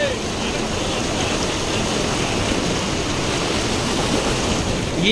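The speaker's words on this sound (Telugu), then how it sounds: "తమిళనాడుని ఇంకా నీళ్ళు చూడండి ఎట్లా తుముకుతా ఉందో" The Krishna river rushes past in a loud, continuous broadband roar of moving water that stays even and unbroken from start to finish.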